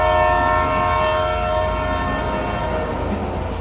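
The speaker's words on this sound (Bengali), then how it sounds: "সঙ্গে সঙ্গে চলন্ত ট্রেনের ফোঁস ফোঁস হর হর শব্দ" A moving train rushes past as a sound effect, its loud, steady horn blaring over a heavy rumble of wheels and carriages from start to finish with no voices.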